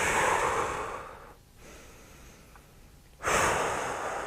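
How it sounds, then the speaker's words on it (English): A person seated during a hip mobility exercise draws a slow breath in through the nose, pauses, then exhales audibly, heard close and breathy with a quiet gap between the breaths. "Breathe in the nose, out the mouth."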